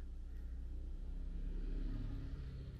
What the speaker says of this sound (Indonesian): ini ada motor nih lewat ya